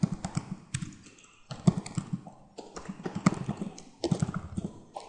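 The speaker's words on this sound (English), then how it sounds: "Just type in your file name." Keys clatter on a computer keyboard as a file name is typed, quick irregular bursts of close, crisp taps separated by short pauses, with no voices.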